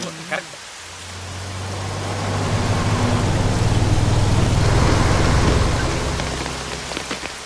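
Steady rain pouring down, swelling louder in the middle and easing off, with a low rumble underneath and a few voices nearby.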